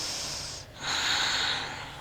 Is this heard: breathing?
yes